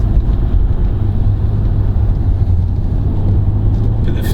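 A 2016 Porsche Cayenne S V8 diesel heard from inside the cabin: a loud, deep engine drone holds steady under faint road noise, with no clear surge in pitch.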